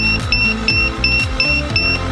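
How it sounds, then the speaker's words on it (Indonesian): A high-pitched electronic alarm buzzer on a forest fire detection prototype, triggered by high temperature, beeps in a fast, regular pattern of short double tones, repeating steadily and loudly throughout. "dan dia menyalakan alarm buzzer warning"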